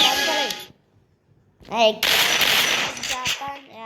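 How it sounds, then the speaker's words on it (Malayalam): Sharp, loud gunshot bursts ring out, with a rapid crackling volley of shots after a short silence, mixed with people talking nearby. "വെടി വെച്ച കേൾക്കുമ്പോൾ"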